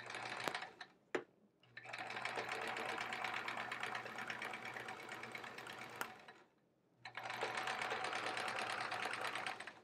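A sewing machine free-motion quilts stars onto a baby quilt, stitching in fast rattling bursts with close, steady needle chatter, stopping briefly twice before starting again.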